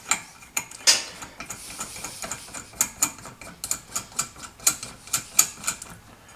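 Rapid mechanical clicking and ratcheting from a puller tool working a part loose on a Harley-Davidson Topper scooter, a steady run of close, sharp ticks with metallic ringing accents.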